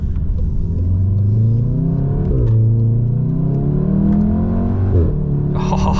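Volkswagen Golf with a resonator delete exhaust and DSG gearbox, a loud, close engine drone rising through the revs with sharp crackling parps at each quick gear change.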